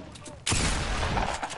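Video game gunfire erupts suddenly after a quiet moment, a loud, sustained burst of rapid shots and blasts filling the rest of the short stretch.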